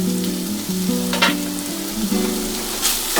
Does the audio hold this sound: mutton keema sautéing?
yes